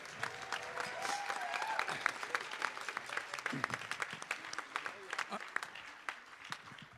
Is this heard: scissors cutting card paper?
no